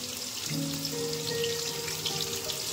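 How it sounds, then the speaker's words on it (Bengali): Fish coated with salt and turmeric frying in hot oil, giving a steady close sizzle with a faint watery crackle that holds constant throughout, with no talking. "জার মাছ নুন হলুদ মাখিয়ে রেখেছি, এখন ভাজবো"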